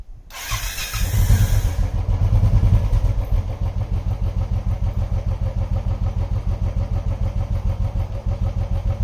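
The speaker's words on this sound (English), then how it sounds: "So just start your motorcycle" A motorcycle engine cranks and fires up, revs briefly, then settles into a steady, loud, close idle with a regular pulsing thump.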